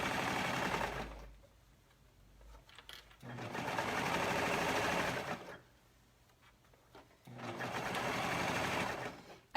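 A sewing machine runs in three bursts of fast, whirring stitching separated by short pauses, close up with no talking, sewing a leg hole on a tankini.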